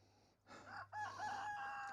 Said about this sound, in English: One thing you will definitely do is hear the rooster.